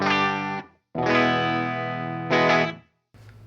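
An electric guitar plays a clean tone through a pedalboard with a TC Electronic Polytune tuner first in the chain: a few sustained, ringing chords struck close up, each decaying before the next, with no voices.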